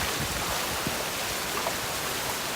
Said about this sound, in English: That Taiwan rain is relentless.